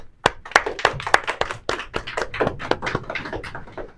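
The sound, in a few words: audience clapping for themselves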